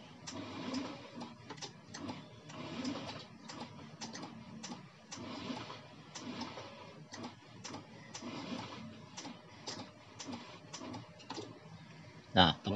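The electric starter on a Honda Beat Pop eSP scooter cranks on a weak battery, giving a rapid, uneven ticking churn that stutters and repeats for several seconds, close and moderately quiet, with a sharp thump at the end.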